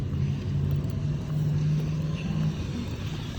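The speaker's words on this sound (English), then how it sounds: "Cars are pretty close." Cars pass close by on a street near a pet supermarket, a steady loud rumble of engines and tyres with a low droning hum throughout, no clear gaps between vehicles.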